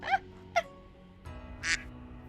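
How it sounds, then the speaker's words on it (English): Ducks in the Hakuoki video game give four short quacks, spaced unevenly across a couple of seconds, each one clear and fairly close against a quiet background. "So now all the ducks are frustrated."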